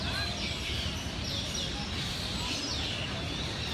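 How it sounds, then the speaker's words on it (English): Birds chirp and tweet in a jungle park of trees with sprawling roots at the base of twin skyscrapers, a dense steady chorus of small calls over city background noise. "You can hear all the birds chirping."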